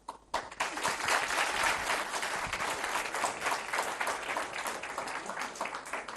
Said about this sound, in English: Once we are done with the clapping part